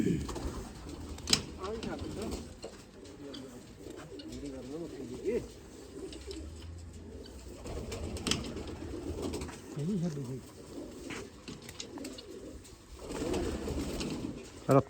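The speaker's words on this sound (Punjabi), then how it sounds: "ਵੱਡੀ ਕਬੂਤਰੀ ਆ ਬਈ ਬੱਚਿਆਂ ਵਾਲੀ ਆ ਇਹ" Low, throaty coos from a large female pigeon rumble in soft repeated phrases beneath people talking nearby, with occasional rustles and light knocks.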